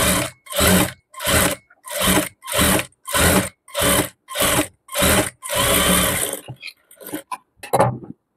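A sewing machine stitches lace onto a frock neckline in about ten short, loud, evenly spaced whirring bursts with brief silences between them, followed by scattered light clicks and handling noises.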